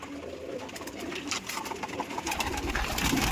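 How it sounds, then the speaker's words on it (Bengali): Pigeons coo steadily inside a small home pigeon loft, a dense, continuous murmur of calls from several birds close by, with no talking. "এই যে আমার পায়রাগুলোকে এখন ছেড়ে দিয়েছি, কিছু উপরে উঠছে আর এই যে এইগুলো ঘরের মধ্যে বসে আছে।"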